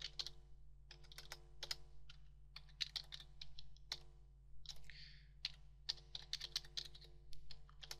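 Keystrokes on a computer keyboard during an R Commander session, a steady run of close, crisp clicks in quick irregular bursts with a brief pause midway, alone over a low electrical hum.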